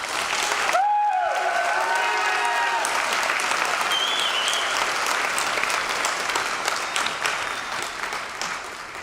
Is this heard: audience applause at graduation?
yes